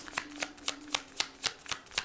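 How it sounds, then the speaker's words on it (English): Tarot cards shuffled by hand, about nine quick crisp riffles in a steady rhythm, close and quiet, with no voice. "One more shuffle"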